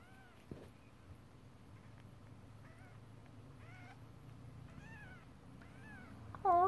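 A kitten named Sylvester gives a run of small, high meows at a steady pace over a low room hum, with a louder, closer meow at the very end.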